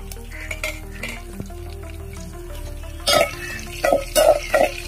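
Cumin seeds frying in hot oil for a village-style papaya curry, giving a close, steady sizzle with a few sharper crackling bursts and stirring clatter near the end, loud and with no voices over it.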